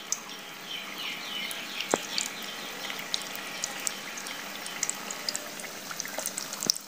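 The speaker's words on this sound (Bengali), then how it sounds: "এখন আমি দিয়ে দিচ্ছি তেলে।" Potato samosas go into hot oil and fry with a steady crackling sizzle and scattered sharp pops throughout. The frying is close and fairly quiet, with no voices.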